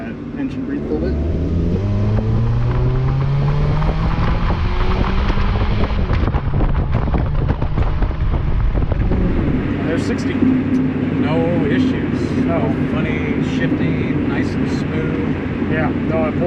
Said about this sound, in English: And calm down and let that engine breathe a little bit.